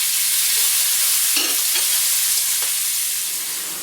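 Hot dogs browning in a pan, a steady close hiss of frying with a few brief scrapes and bumps scattered through, no voices.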